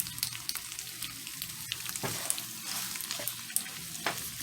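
Shrimp and sauce for Cajun shrimp pasta sizzle in a pan as a spoon stirs through them, giving a soft steady hiss with several scraping strokes and small clicks, close and fairly quiet.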